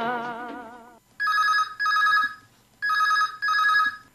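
As music fades out, a telephone rings for a call to a radio phone-in programme: two loud, clear pairs of electronic trilling bursts in an even rhythm.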